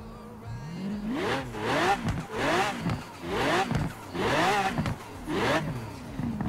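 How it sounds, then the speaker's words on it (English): A V12 Lamborghini engine in the racing game Forza Horizon 4 revs hard five times in a row. Each rev is a loud, rising roar that falls away before the next one begins. "that is a V12 Lambo engine car. It sounds freaking insane, dude."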